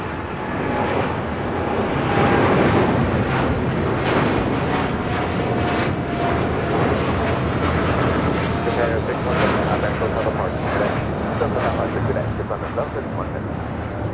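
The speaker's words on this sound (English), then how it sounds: "That was a flight heading to Tokyo Narita, flight 61. China Eastern, the 777-300ER." A China Eastern Boeing 777-300ER departing Los Angeles for Tokyo Narita roars steadily for the whole stretch: a loud, broad jet-engine rush that holds at an even level from start to finish.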